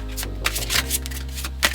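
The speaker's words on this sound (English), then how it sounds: "if I could shuffle, that would be nice" Tarot cards being shuffled by hand, a soft papery riffling and sliding with a few sharper flicks, close and moderately quiet with no talking.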